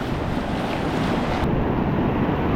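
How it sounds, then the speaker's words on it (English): Ocean waves and surf roar steadily at a beach in Cabarete, a loud, continuous wash mixed with heavy wind buffeting the microphone. "the ocean's roar"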